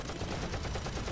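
Rapid machine-gun bursts from a WWII fighter plane in the Sky Gamblers: Storm Raiders flight game rattle continuously and loudly, dense and unbroken, with no talking.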